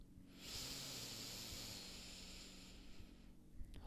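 One slow, deep inhale through the nose during a paced breathing exercise, a soft close airy hiss that rises, holds steadily for a couple of seconds, then fades out.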